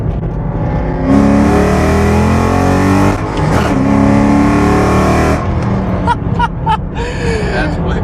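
Modified 2007 Shelby GT Mustang accelerates hard in second gear from a 40 mph roll. A loud rising engine roar holds for several seconds, then breaks off into a gasp and short exclamations.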